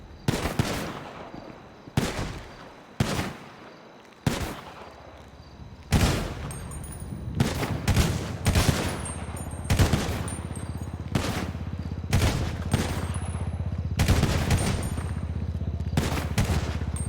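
Pistol shots in GTA V crack out one at a time, loud and near, about a dozen at fairly steady intervals over a low continuous rumble.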